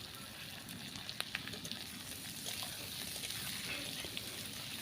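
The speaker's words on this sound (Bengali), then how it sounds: "ভালো করে ফোড়নের সাথে ভেজে নেব" Onion and chopped vegetables frying in mustard oil in a wok give a faint, steady sizzle with a few soft ticks and pops scattered through it. No one speaks.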